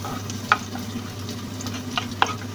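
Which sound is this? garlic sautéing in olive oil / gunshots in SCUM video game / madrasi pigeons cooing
garlic sautéing in olive oil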